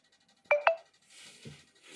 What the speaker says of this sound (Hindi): लक्ष्मी बेटी फोन करी से।